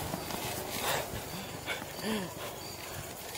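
A dog barks or yelps faintly in the distance during a fixed-gear bicycle ride from Calamba to Los Baños, mixed with wind noise and people talking.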